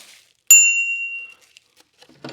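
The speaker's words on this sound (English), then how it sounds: "Your bell, of course, mounts on the handlebar." A single crisp ding from a bicycle bell mounted on the handlebar of a VANPOWERS Cycanon fat-tire e-bike rings out clearly and sustains for nearly a second before fading, followed by faint rustling.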